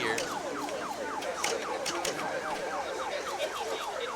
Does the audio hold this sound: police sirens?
yes